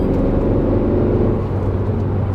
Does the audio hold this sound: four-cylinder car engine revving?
yes